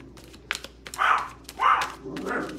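Dogs barking indoors, three loud rough barks about half a second apart, preceded by a few light clicks.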